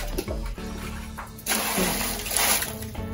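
Water sloshing and splashing as boiled field snails are washed and cleaned by hand, a loud, close, continuous rush with brief breaks and surges.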